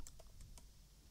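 Keystrokes on a computer keyboard while entering code for a Blogger Contempo theme sidebar: a few quick, light clicks in an uneven rhythm, close and fairly quiet, with no talking.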